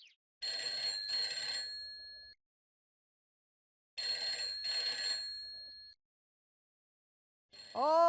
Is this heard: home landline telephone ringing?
yes